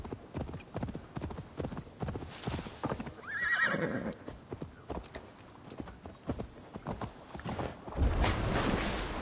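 Steady clip-clop of horse hooves at a walking pace on level terrain in Assassin's Creed Valhalla, with a horse whinnying partway through, fairly close and continuous.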